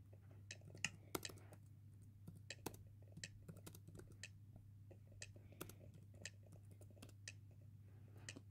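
Computer keyboard being typed on, scattered sharp key clicks in short irregular bursts over a steady low hum, close and fairly quiet, with no talk.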